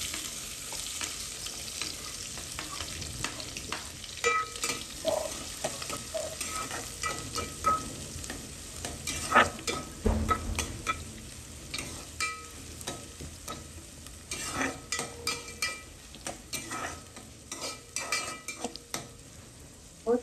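Onion and green chili frying in a pan with curry leaves and cumin for a spicy cabbage dish, a loud crackling sizzle punctuated by repeated spatula scrapes and clinks.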